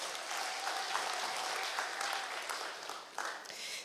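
Church congregation applauding at an ACK church service in Kiambu, a dense steady burst of clapping that fades briefly near the end and then resumes.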